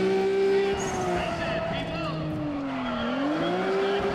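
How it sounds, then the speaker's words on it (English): A car in Need For Speed ProStreet accelerating hard, engine revving up with a sustained tire squeal, loud and close, while a person talks over it. "I've literally just put the accelerator down."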